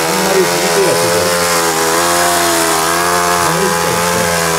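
A Saito model aircraft engine screams at full power at an engine festival, a loud, steady high-pitched whine with strong harmonics that holds for several seconds, with voices faintly underneath.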